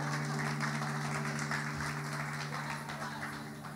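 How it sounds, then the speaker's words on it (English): A church congregation claps for the Orlando Pirates football club, a steady wash of applause over a sustained tonal hum, fading slightly toward the end. "Clap hands for Orlando Pirates."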